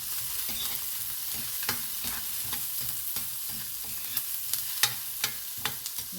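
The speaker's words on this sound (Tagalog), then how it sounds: "Yan, halo ko lang muna." Vegetables simmer in coconut milk in a pan for ginataang gulay, a soft background sizzle broken by irregular clinks and scrapes of a utensil stirring, close and fairly quiet.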